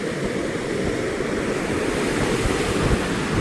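Rough Atlantic Ocean waves roar continuously against the shore, blended with gusting wind buffeting the microphone. The surf is loud, dense and unbroken, with no voices heard.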